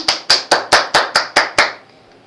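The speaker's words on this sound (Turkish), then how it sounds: "Hocam bir alkış." Eight crisp, evenly timed hand claps sound close and loud in quick succession, then stop and leave a faint background.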